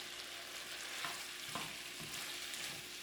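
Pork riblets in oyster sauce sizzle steadily in a pan as they are turned over, a soft continuous frying hiss broken by a few faint scrapes and pops, with no talking.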